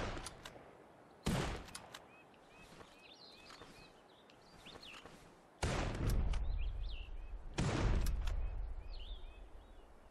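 Gunfire in the hunting game Hunting Simulator 2 at a forest goose hunt: a few sharp, loud shotgun blasts spaced several seconds apart, each trailing off against quiet outdoor ambience with faint bird calls.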